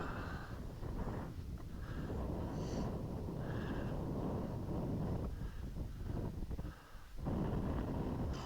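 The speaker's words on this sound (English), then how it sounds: "You can hear the wind." Steady wind roar buffets the microphone throughout a motorcycle ride on a rocky off-road trail during a charity toy run, a dense continuous rush with a brief dip near the end.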